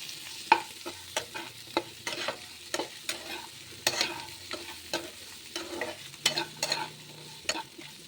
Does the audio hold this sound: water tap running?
no